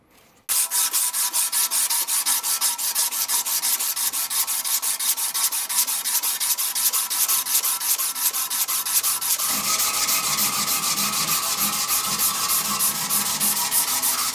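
Rapid, rhythmic strokes of a file and then sandpaper rasp against brass trumpet parts, loud and close, running continuously with a shift in texture partway through.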